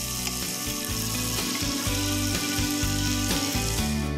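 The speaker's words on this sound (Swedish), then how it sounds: "sen tillsätter jag smöret precis innan jag ska vända fisken" Breaded cod fries in a pan with butter and oil, giving a loud, steady, close sizzle with crackling pops throughout and no speech.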